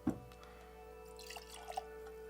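Jura 10 Scotch whisky poured into a glass: a brief splash at the start, then a few faint, scattered drips in a quiet room.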